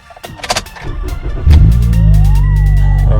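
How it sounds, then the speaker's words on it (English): A car engine cranks with a rising starter whine, then catches and settles into a loud, steady idle, close by with no talk. "turn on the car"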